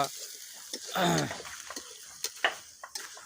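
Food sizzles and fries in a pan at an outdoor picnic cooking spot, with meat among the dishes. There is a short burst of crackling, then sparse stirring clicks and faint ticks.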